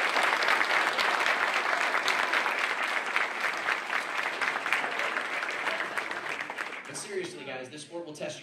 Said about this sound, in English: let's give a round of applause to the parents that support these young men and women